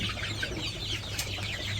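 Village chickens being raised for sale cluck softly over a constant low hum, a short close burst with no talk.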